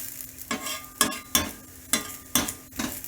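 A moong dal, bajra and ragi chilla cooks on a pan. Soft frying crackle runs under a series of about six evenly spaced scraping strokes as a spatula works it, close and fairly quiet, with no talking.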